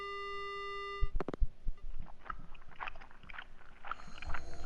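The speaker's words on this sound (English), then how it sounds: "The only sound I hear is the dial tone." A telephone dial tone sounds in the horror game Death Mark, holding steady for about a second before sharp clatters cut it off, followed by faint scattered clicks and crunching noises at low level.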